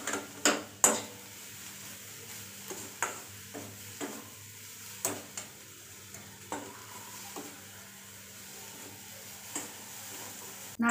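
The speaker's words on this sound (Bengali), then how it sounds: "আর একটু ভেজে নেব।" Grated coconut frying in a pan, a steady soft sizzle broken by repeated sharp scraping stirs every second or so, close and fairly quiet with no talking.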